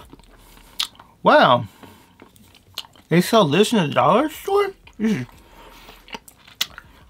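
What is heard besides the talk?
chewing a hard dollar store snack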